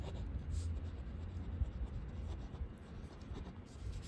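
Handwriting numbers on paper gives a faint, continuous scratchy rubbing of pen or pencil, close but quiet, with no talk.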